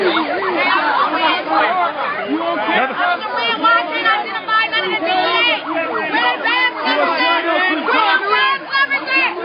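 A dense crowd of protesters shouts and chants during a police raid by federal agents on a street outside a cannabis business in Oakland, a loud, continuous tangle of overlapping voices and yells close by, with no pause.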